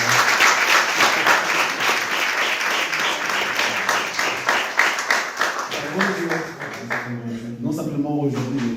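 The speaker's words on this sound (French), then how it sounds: "On peut applaudir pour tous les mères qui sont arrivées." A church congregation claps for the mothers on Mother's Day, dense sustained applause from a crowd that tapers off toward the end as a voice begins speaking.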